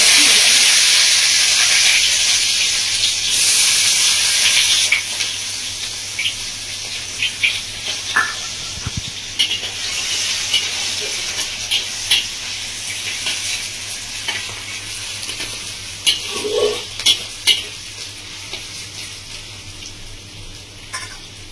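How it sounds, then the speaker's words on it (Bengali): Onions dropped into hot oil tempered with nigella and fennel seeds sizzle loudly in a pan at first, then settle into a softer hiss broken by scattered clacks of stirring, with no voices. "এবার দিয়ে দিচ্ছি পেঁয়াজ।"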